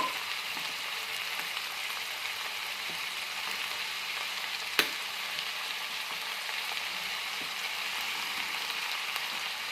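Onions and green chillies frying in a pan for a beans palya, a soft continuous sizzle at low level with one sharp click partway through, no voices.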